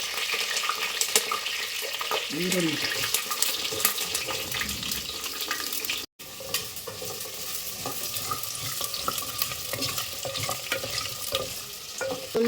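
Fenugreek, fennel seeds and dried red chillies frying in a pan, a steady hissing sizzle with scattered stirring clicks throughout, close and continuous, with a brief dropout midway.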